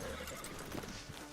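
A horse whinnies in Red Dead Redemption 2, a quavering neigh layered with hoof clip-clop and game ambience, close and moderately loud.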